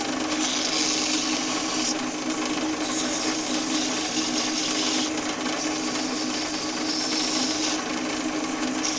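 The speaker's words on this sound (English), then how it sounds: "Chamfer that edge and the outer edge." Woodturning lathe chamfering a wooden edge gives a steady, loud rasping scrape with a constant motor hum, and brighter bursts of cutting noise recur every few seconds for the full length.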